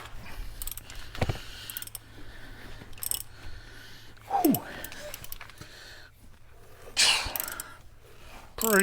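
A tight bolt on the rear brake of a BMW 320d M Sport is worked loose from underneath the car, giving a few sharp metallic clicks and clunks of tool against metal, scattered and close, with no talk.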